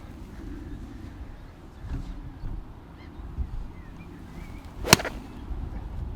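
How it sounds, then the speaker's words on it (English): One crisp, sharp strike of a golf club hitting a ball during a swing, standing out clearly against quiet outdoor ambience. "And look at that for a golf shot."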